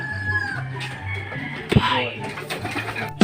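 Racing pigeons coo in a loft, soft repeated low coos and rustling alongside other bird calls, with someone talking over them throughout.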